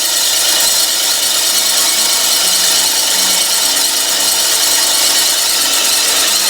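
Elmo film projector motor modified for 50 Hz runs continuously up close, a loud steady mechanical whir with fine ratcheting clatter and no speech.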